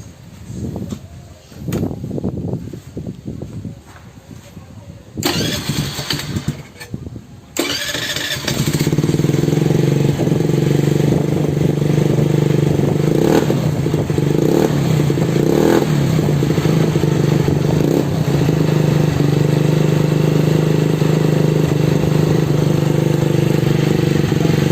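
A Keeway SIP125 motorcycle fitted with an EXOS X6 exhaust cranks and clatters through a few starting attempts, then fires and holds a loud, steady idle close by, with occasional small blips.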